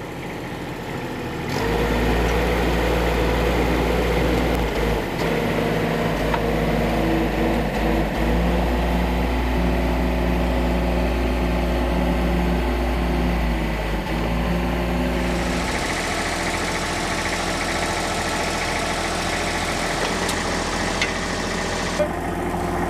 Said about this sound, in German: Nachdem wir also die Stützen jetzt manuell eingeklappt haben